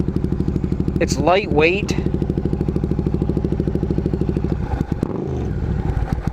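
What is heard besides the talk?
1995 Suzuki Intruder VS800 motorcycle engine running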